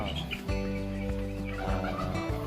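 Four-month-old young guinea fowl call out in a farm flock, a chorus of harsh, repeated gobbling cries overlapping at close range, moderately loud with no talking.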